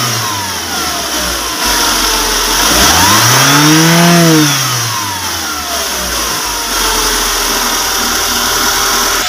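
A Toyota HiAce running on fuel and LPG idles, then swells into one strong rev that climbs and falls back before settling to a steady idle, close and loud.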